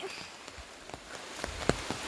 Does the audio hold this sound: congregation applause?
no